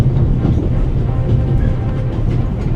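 A passenger train in the video game The Raven Remastered keeps shaking and rattling: a continuous, loud low rumble with dense rattling, steady and close, no speech.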